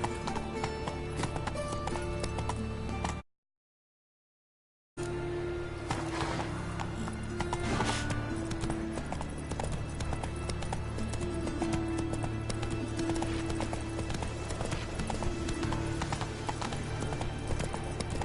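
A horse gallops in The Witcher video game, a fast, steady clip-clop of hooves close by that runs almost throughout, with a brief drop to silence early on.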